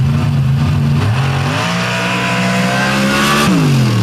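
An orange Chevrolet pickup on a nitrous drag racing run at full throttle, a loud, sustained engine roar whose pitch climbs through the gears, with a shift dip near the start and another toward the end.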